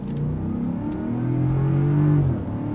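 A Land Rover Defender 90 with a V8 accelerates hard, close by. The engine note climbs steadily into a loud, sustained roar, then eases off at the end.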